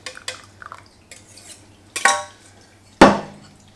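A utensil stirs barbecue sauce into slow cooked pulled pork in a crock pot, with soft scraping, then two sharp clangs of metal against the pot, close and loud, with no talking.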